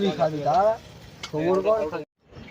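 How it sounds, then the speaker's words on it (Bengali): Chicken sautéing in a pot for a picnic cooking session, a steady broadband frying sizzle running beneath loud, close speech from a man that breaks off near the end. "এইদিকে এখন আমরা কষা মারছি আলতো আলতো করে"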